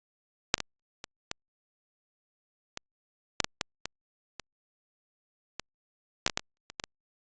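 Sparse, irregular crackles and pops, isolated sharp clicks scattered over near silence, some arriving in quick little clusters.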